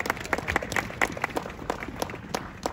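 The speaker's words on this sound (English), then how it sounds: "Give him a round of applause." Scattered clapping from a modest crowd at an outdoor vigil, a loose ragged patter of individual claps at moderate distance.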